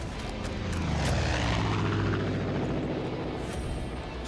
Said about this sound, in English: Oh, it's a helicopter.